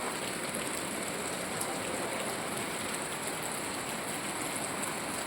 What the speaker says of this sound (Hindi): अभी तो ठंड वाली बारिश हो रही है